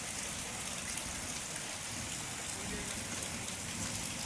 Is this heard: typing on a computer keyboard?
no